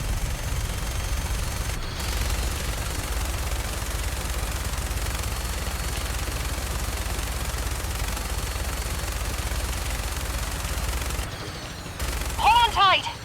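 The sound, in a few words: minigun firing in Fallout 4 video game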